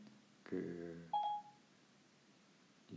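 A smartphone's Siri voice assistant gives a short activation chime, two quick electronic tones close together, fairly faint in a quiet room with no speech.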